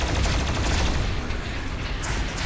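A gatling cannon in the Doom video game fires a dense, continuous burst of rapid shots, loud and close, with booming low rumble throughout and no voices.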